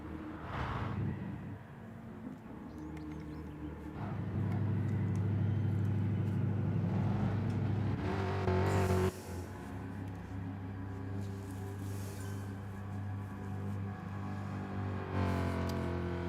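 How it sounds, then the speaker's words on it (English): A race car doing burnouts at a racing event: an engine roars hard and sustained, swelling to a loud steady howl of revving and tyre strain that holds for several seconds before easing, with a distant drone throughout. "We'll just do some burnouts instead."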